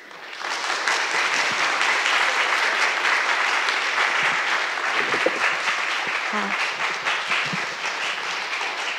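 An audience at the g0v summit 2020 keynote panel claps after a talk, with dense, sustained applause filling the hall that carries on at an even level from start to finish.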